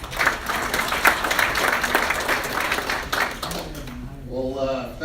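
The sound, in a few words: audience applause for a speaker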